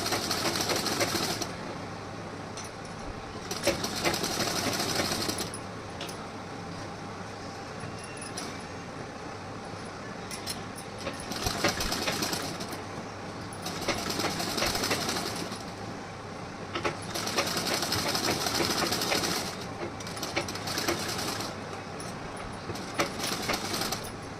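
A sewing machine runs in repeated bursts of several seconds each with short pauses between, stitching a half-inch double seam on a blouse; the whirring is close and fairly loud.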